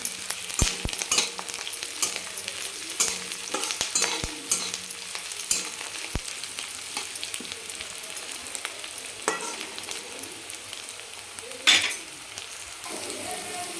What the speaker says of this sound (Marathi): हे तीन हिरव्या मिरच्या आहेत अशा कट करून घेतलेल्या आहेत ती पण टाकते त्याला चांगलं दोन मिनिट परतून घ्यायचं